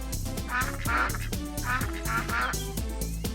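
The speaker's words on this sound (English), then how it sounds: "Oh, ducks." Ducks in the RollerCoaster Tycoon 3 video game quack repeatedly in a rhythmic series of nasal calls over game music and ambient park sound, moderately loud and close.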